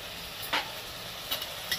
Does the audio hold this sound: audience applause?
no